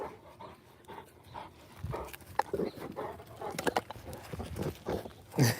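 A Rottweiler and a Cane Corso play, with quick bursts of panting, scuffling and small vocal noises scattered through the moment at moderate, uneven loudness.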